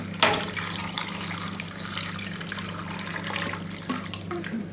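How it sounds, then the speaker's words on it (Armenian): Water runs steadily into a cooking pot of lamb for khashlama with a continuous splashing hiss, close by, with a low hum underneath and no talking. "Ջուր եմ լցնում, այնքան որ թեթևակի ծածկի։"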